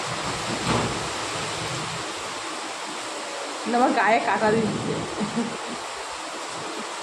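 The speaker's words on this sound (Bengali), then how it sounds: "বৃষ্টিটা হচ্ছে" Steady rain falls throughout as a broad, even hiss, with someone speaking briefly over it partway through.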